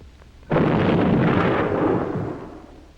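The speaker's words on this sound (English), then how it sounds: "The shelling was mainly a Dutch effort to make an impression." Artillery shell bursts in a circa 1965 film: a loud, close boom hits suddenly, then rolls into a long, dense rumble that slowly fades over a few seconds.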